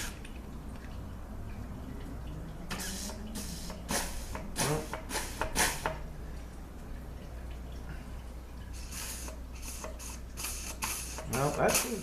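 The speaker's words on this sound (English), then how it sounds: "So I don't want to get an oil bath here, so I'm going to just apply a little air." Short, sharp bursts of compressed air hiss into a Dodge 44RE automatic transmission piston. Clusters of quick blasts sound over a low, steady background hum, separated by quieter gaps.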